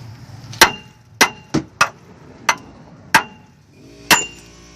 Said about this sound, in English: I've got to hit this old stud right about in here and drive that old stud and ball right out of there.